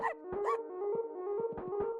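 A dog barks and yips in The PARADOGX Incident, a puzzle platformer video game, giving several short clipped barks and whimpers over a steady tonal game soundtrack.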